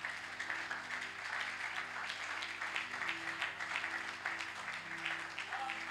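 A church congregation claps in sustained, steady applause for several seconds, many hands together at moderate distance over a faint background hum.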